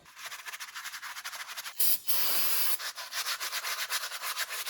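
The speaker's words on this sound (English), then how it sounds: "Use the old Scotch pad here, so that way the new seal slides over there" A Scotch pad scrubs rust off a truck hub in a garage, a loud, close, rhythmic rasping. The strokes are rapid and repeated, with a brief harsher burst partway through.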